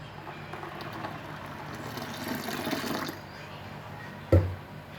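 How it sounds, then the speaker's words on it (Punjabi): Ice-cold water pours steadily into a pot of jaljeera for a few seconds, followed by a brief knock near the end. "ਹੁਣ ਆਪਾਂ ਇਹਦੇ ਵਿੱਚ ਪਾਣੀ ਹੋਰ ਪਾ ਲਾਂਗੇ ਬਰਫ਼ ਵਾਲਾ ਪਾਣੀ"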